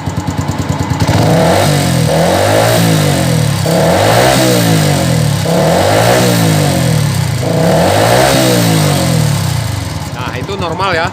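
Yamaha Vixion motorcycle engine, old model, being revved repeatedly: loud, close rises and falls of engine pitch in a regular cycle of about five throttle blips, with someone talking briefly at the end.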